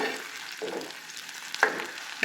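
Fish browning in oil in a home kitchen, giving a steady broadband sizzle with a few louder bursts as pieces shift or are stirred, fairly close and with no voices.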